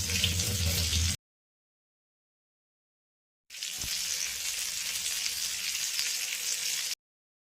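Chicken leg pieces and slit green chilies fry in oil with a steady broadband sizzle, heard in two stretches separated by a gap of near silence, with a soft low thump as the second stretch begins.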